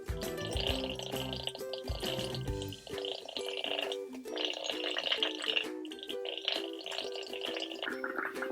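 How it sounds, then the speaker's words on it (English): Liquid bubbled through a straw in a classroom carbon cycle experiment, a run of wet gurgling bursts with short pauses between them. "Very carefully blow bubbles."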